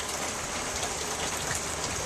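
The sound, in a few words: torrential rain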